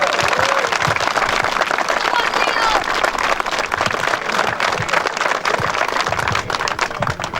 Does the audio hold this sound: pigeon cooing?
no